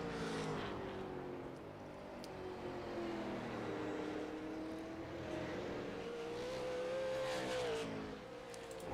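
Russell Brown's race car drives laps on the South Boston track, its engine holding a loud, steady drone with rising and falling revs through the gears and corners, heard from on board, with no talking.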